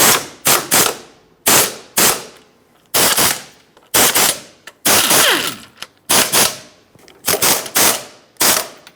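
A power tool tightens the right engine mount nut on a 2012-2018 Nissan Altima 2.5L, firing about a dozen loud, sharp rattling bursts in quick succession with short pauses between them.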